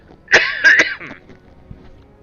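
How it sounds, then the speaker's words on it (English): A speaker coughs twice in close succession, loud and close, with a short throat-clearing rasp trailing after and quiet room tone afterward. "Have to excuse me, I've got to cough."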